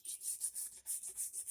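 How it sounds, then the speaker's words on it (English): A brush sweeps debris off a wooden workpiece before finishing and sealing, making quick, close, rhythmic bristly strokes in repeated bursts. "the first thing I use is a brush so that I can brush off if there's any hair, any little pieces of"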